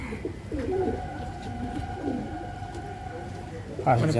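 Pigeons kept by a pigeon fancier in Malda coo nearby in low, rolling calls, with a faint high tone running through the middle and a voice speaking briefly in the background.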